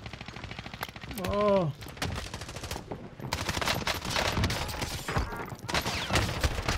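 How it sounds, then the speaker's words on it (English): Rapid automatic MP5 fire in a Modern Warfare Rebirth Island match, long dense bursts of rattling shots close up, with a brief rising tone and a voice exclaiming over the gunfire. "Rapid fire in MP5."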